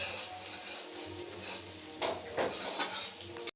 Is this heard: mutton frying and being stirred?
yes